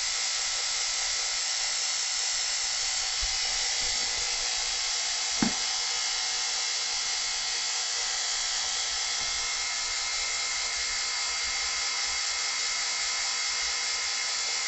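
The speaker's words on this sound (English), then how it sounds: "I'm going to go ahead and turn off the vacuum pump" A laboratory vacuum pump runs with a steady, unbroken mechanical whine and hiss throughout, constant in level, with one brief knock partway through.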